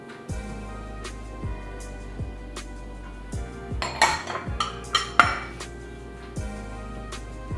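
Metal utensil clinking and scraping against a bowl while an egg is stirred into chocolate cake batter, steady repeated knocks with a few louder clinks midway, close and without talk.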